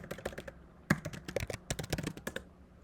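Rapid, uneven keystrokes clack on a computer keyboard as a short terminal command is typed, a quick burst of close, crisp clicks with brief pauses between them.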